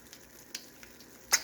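Eggs fry slowly sunny side up in a buttered pan, a faint, soft sizzle with a few small ticks and one sharper clink near the end, close and quiet with no talk.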